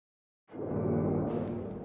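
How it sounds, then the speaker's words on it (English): A soft, hazy swell of sustained pitch-shifted violin fades in after a brief silence, smeared and washed in reverb, muffled and dreamy. "For the bridge section, I kind of did like this washout effect"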